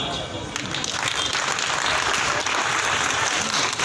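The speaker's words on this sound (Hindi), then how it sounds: "अंतिम ताली उनके लिए जिनको पुरस्कार नहीं मिला" At an award ceremony held by a Pareek community trust and women's committee, an audience claps together, a loud, dense burst of applause that holds steady for a few seconds with faint voices beneath.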